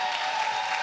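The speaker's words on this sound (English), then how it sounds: "can we get a round of applause, please" A dense round of crowd applause at a Fortnite tournament grand final held at PAX West, a brief steady wash of many hands clapping at once.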